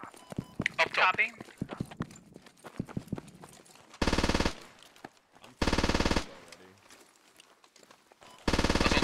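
Rapid automatic gunfire bursts in a squad-based tactical shooter game, three loud sustained volleys separated by gaps filled with footsteps, clatter and a player's voice talking.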